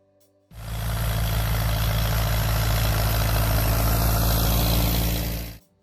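An Allis-Chalmers B tractor engine, a model first built in 1937, idles close by with a steady, low throbbing chug that starts abruptly, holds even for several seconds, then cuts off.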